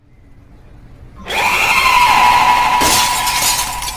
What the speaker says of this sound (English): Slam Banshee's sonic scream shatters the windows on the first 3 floors of Olympia Designs